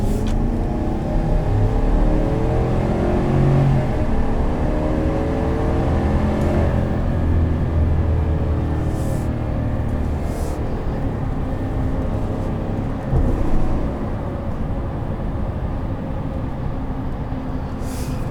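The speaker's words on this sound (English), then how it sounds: "this has an actual V8 in it, not a twin-turbo 6-cylinder" 2021 Chevrolet Silverado 1500 LT Trail Boss pickup with a V8 engine accelerating, a steady loud engine drone rising in pitch over road noise, heard from inside with no talk.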